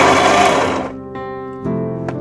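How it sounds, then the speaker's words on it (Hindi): Mixer grinder motor whirring loudly as it blends a hot spiced masala puree, a dense roar that eases after about a second, then short restarts in quick bursts. "थोड़ा सा आपको बहुत ही केयर के साथ मिक्सी चलानी होगी"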